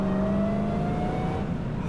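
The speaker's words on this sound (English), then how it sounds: "just pull on the throttle a little bit, and let's see how it comes together" A 2023 Dodge Challenger SRT Demon 170 engine pulls steadily on the throttle, its close, loud drone climbing gradually in pitch with no voices over it.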